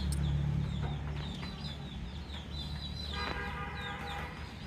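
Chickens kept in a dim livestock shed on a small farm where goats are also housed, clucking in short, faint, scattered calls over a steady low background hum.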